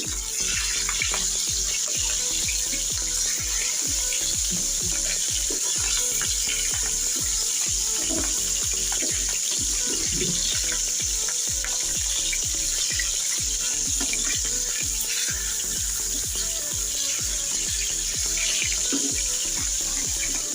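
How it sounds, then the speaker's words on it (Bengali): Pieces of rohu fish fry in hot oil, a dense continuous sizzle and crackle with constant spitting pops, close and steady for the whole stretch with no talking. "মাছগুলো আমি একটু কড়া করে ভেজে নেব"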